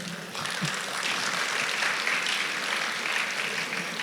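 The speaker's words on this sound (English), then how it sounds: "Please applaud them." Audience applause at a foundation gala, a steady, even roar of many hands clapping at moderate distance, sustained throughout with no speech.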